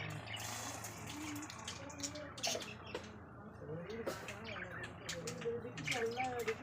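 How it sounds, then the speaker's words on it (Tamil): Mustard seeds spluttering in hot oil for tamarind rice give a steady, close crackling sizzle with scattered sharp pops, while birds chirp faintly in the background. "கடுகு பொரிஞ்சிட்டு இருக்குது"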